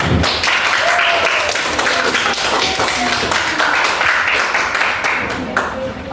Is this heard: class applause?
yes